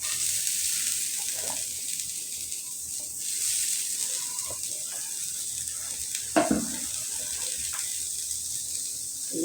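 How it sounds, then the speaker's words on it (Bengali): Chopped garlic and onion fry in hot oil on a pan, a steady close sizzle that runs the whole time, with a brief clatter partway through. "এখন তাওয়ার মধ্যে আমি দিয়ে দিলাম হলো রসুন কুচি দিয়ে দিলাম কতগুলা, দিয়ে দিলাম পেঁয়াজ কুচি"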